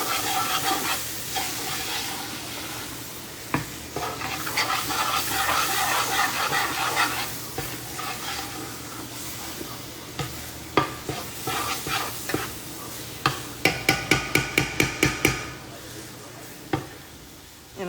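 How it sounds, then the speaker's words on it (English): A Louisiana-style roux being stirred in a pot over low heat gives a continuous close scraping and sizzle, followed by a run of sharp rhythmic taps of the spoon against the rim. "Let's give this a quick stir."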